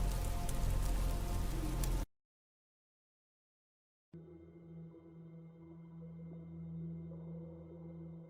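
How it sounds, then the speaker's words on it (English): Heavy rain pours against a window during a storm as a dense, steady hiss for about two seconds, then cuts to silence before a low, quiet droning hum takes over. "As drops of rain were pouring on my window"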